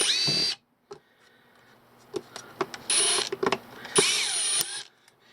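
A Hitachi power drill backs a screw out of an inflatable mattress pump during a teardown, giving short whirring bursts separated by pauses, with clicks and handling noise between them.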